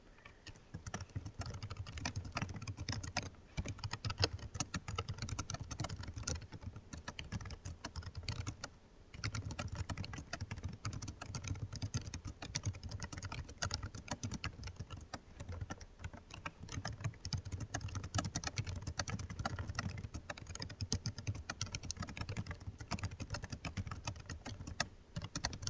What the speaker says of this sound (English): this is where I'm going to type all the code for my game.